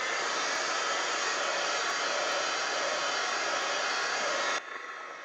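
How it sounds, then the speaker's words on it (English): A heat gun blows steadily to dry wet paint on a mixed media face painting, a loud close whooshing roar that runs unbroken for several seconds before cutting off abruptly near the end. "Some of these spots are a little bit wet, so heat gun."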